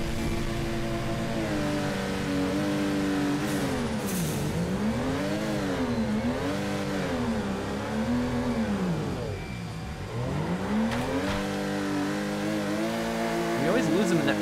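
A Toyota Supra drift car in the Torque Drift video game revs repeatedly in rising and falling sweeps as it slides through corners, tyres squealing at times, with some talk over the engine.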